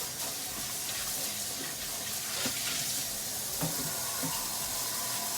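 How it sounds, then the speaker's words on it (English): Water runs steadily from a tap, a constant hissing stream with a few faint clinks, close by and without any talking. "I'm gonna add water into here."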